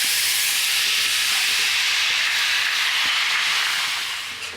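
Grated sweet potato dropped into hot oil with cumin seeds, a loud, dense, continuous hissing sizzle close up that eases slightly toward the end, with no voices.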